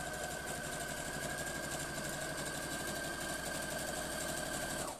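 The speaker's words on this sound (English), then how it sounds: "so I've sewn down the two sides and across the bottom" A sewing machine stitching a fabric storage basket runs in a steady, fast, whirring mechanical rhythm that stays even until it stops abruptly at the end.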